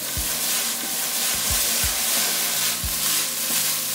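Veal and vegetables, including leeks and carrots, sizzle steadily in a hot pan, a dense close frying hiss with a few low knocks from stirring and no talk.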